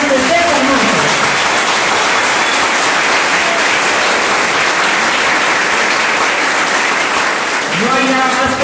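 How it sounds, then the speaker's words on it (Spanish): Loud, sustained applause fills a political science school hall for comandante César Montes after a discussion on Venezuela, a dense unbroken wash of clapping lasting over eight seconds, with brief voices at the start and end. "Considero que se debe un aplauso más fuerte para el comandante César Montes."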